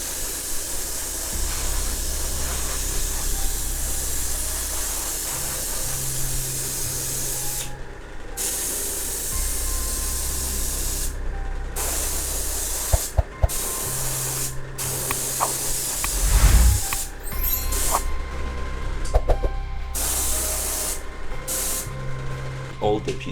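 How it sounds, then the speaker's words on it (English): An airbrush sprays Vallejo primer onto the pieces of a 3D printed Diablo IV Lilith miniature, giving a close, steady hiss in long bursts separated by brief pauses. "So let's apply the primer with the airbrush."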